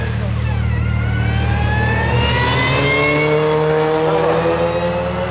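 A supercharged Mini John Cooper Works car accelerates hard at the Brighton Speed Trials, its engine note climbing through several rising sweeps over a low steady drone, loud and close.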